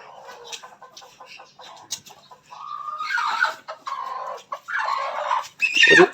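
A hen with her chicks clucks in short bursts, fairly close, with high peeping calls mixed in and background noise around them.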